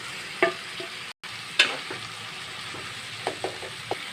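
Ridge gourd and potatoes sautéing in a pan make a constant low sizzle. A handful of sharp clinks and scrapes from the spatula hitting the pan are spread irregularly through it, close by.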